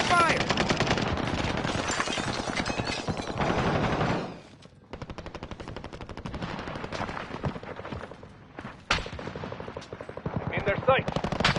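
Automatic gunfire in the video game Call of Duty Warzone, with dense rapid bursts that pause briefly and then resume, mixed with game sounds and a voice speaking at times.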